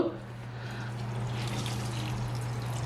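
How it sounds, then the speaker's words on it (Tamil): Water pours in a steady stream into appam batter for about three seconds, a continuous trickling splash close by with a low hum underneath and no voices. "இப்போ தண்ணியும் இதில் விடுங்கோ."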